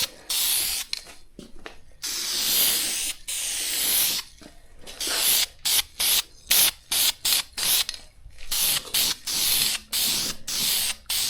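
A spray can or gun lays light coats of paint onto an automotive part, sharp hissing bursts of varying length that start and stop in quick repeated passes, close and loud with short silences between.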